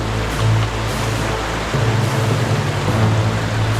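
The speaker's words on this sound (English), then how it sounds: "We reached the river." A river flows steadily nearby, with a broad, continuous rushing wash that stays loud and even throughout and no voices over it.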